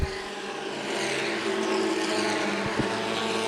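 Compact touring race cars racing at Winchester Speedway, engines droning loudly together at a distance with rising and falling pitch and brief sharp bursts as cars pass.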